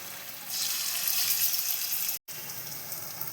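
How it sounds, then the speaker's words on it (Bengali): Ash gourd pakoras deep-frying in hot oil give a steady, close hissing sizzle that runs throughout, broken by one brief instant of silence near the end. "এরকম করে বাদামি করে ভেজে নিতে হবে আপনাদেরকে।"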